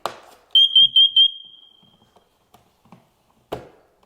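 A talking smoke/CO detector sounds during a carbon monoxide test: a quick burst of four loud, piercing beeps, followed by faint clicks and handling knocks in a quiet room.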